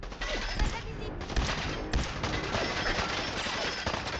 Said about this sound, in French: Eh, ça tire fort là?